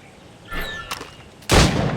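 Musket shots fired at practice targets in Assassin's Creed Rogue: a faint metallic shot and clatter, then one loud, close, booming gunshot with a rolling tail.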